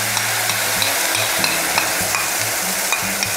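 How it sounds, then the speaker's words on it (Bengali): Spice paste going into a sizzling tempering of dry chili and bay leaf in hot oil over a medium flame, with a loud steady sizzle and rhythmic stirring scrapes throughout, no talking. "ফোড়ন থেকে যখন সুগন্ধ বেরোনো শুরু হবে তখন এর মধ্যে তৈরি করে রাখা মশলার পেস্টটা অ্যাড করে দেব"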